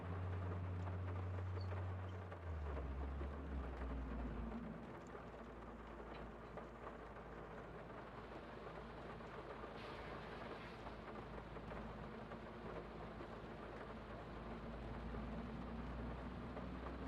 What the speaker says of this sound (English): now it's gonna start raining on us.